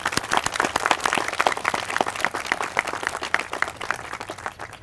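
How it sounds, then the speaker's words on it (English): Audience applause for the Director of Communication of the Harvest Foundation at a SEED 2.0 announcement event, steady dense clapping from a crowd that carries on through the whole stretch with no talking. "If you would, just give them a round of applause"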